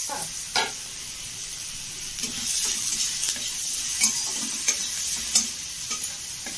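Onions frying in hot oil in a pan for an Odia egg curry give a steady close sizzle, with occasional stirring clicks and scrapes and no talk.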